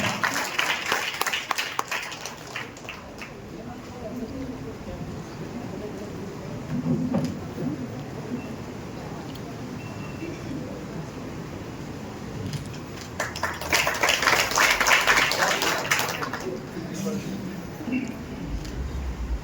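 A crowd at a ceremony claps in two bursts, one brief at the start and a fuller round later, with a voice speaking between them.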